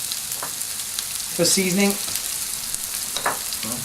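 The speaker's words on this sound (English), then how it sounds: "just fry it up and let it go soft a minute" Quarter of an onion frying in a pan with a little salt, a steady broadband sizzle throughout, with brief louder stirring and clattering around the middle and a voice speaking briefly over it.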